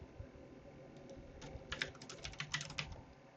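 Keys tapped on a computer keyboard while entering a password, a quick irregular run of light clicks clustered in the second half, close and fairly quiet with no talk.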